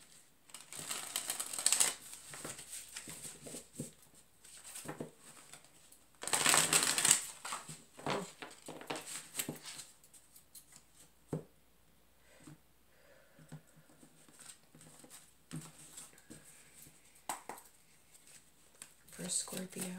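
Tarot cards are shuffled and riffled in bursts of crisp rustling and snapping, with softer handling sounds in between, close to the microphone.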